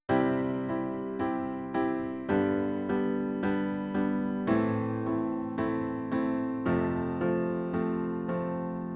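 A piano plays a sequence of struck chords, about a dozen, each ringing briefly before the next, moving through a steady, unhurried progression with no voices.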